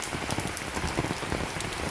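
Rain falls steadily onto flooded farm fields, a close, even patter of dense drops without pause or talk.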